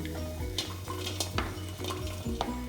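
Dates are dry-roasted over a low flame in a kadai, with soft scraping and clinking as they are tossed. A steady low hum runs beneath the irregular spoon strokes, and no one speaks.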